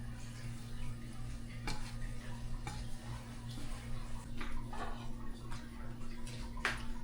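Pancit bihon rice noodles are stirred and tossed in a pan over low kitchen hum, with a soft faint sizzle and scattered scrapes and clinks of a utensil against the metal.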